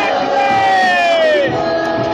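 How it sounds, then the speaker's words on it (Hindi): A dense crowd at an Akhilesh Yadav election rally in Gorakhpur makes a loud, steady roar, with long rising and falling whistle-like or chanting tones sliding through the din. "देख सकते कितनी भीड़ है अखिलेश यादव के रैली में"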